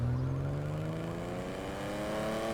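A car styled on the Aston Martin DB5 revs its engine close by, a loud, sustained drone rising steadily in pitch, with no talking.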